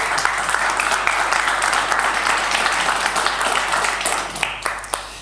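Sustained applause from a conference audience at a colloquium round table fills the room steadily, dense and even, with a few sharper claps standing out as it begins to thin toward the end.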